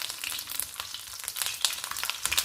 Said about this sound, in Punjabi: ਸਲੋ ਫਲੇਮ ਤੇ ਅਸੀਂ ਇਹਨਾਂ ਨੂੰ ਪਕਾ ਲੈਂਦੇ